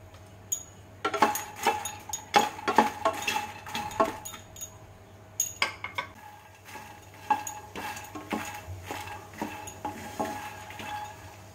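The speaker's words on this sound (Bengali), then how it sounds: "একটা পাত্র গরম করে কিছুটা মাখনা আমি 2-3 মিনিট ধরে শুকনো ভেজে নেব" Fox nuts rattle and scrape around a metal pan in quick bursts of dry-roasting and stirring, with light clinks and a steady low hum underneath.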